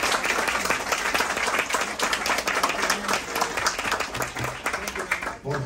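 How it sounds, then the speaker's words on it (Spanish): Dense audience applause at a commemorative dinner honoring José Martí, steady clapping from a large crowd filling the room, with voices mixed in beneath. "les pido un fuerte aplauso también."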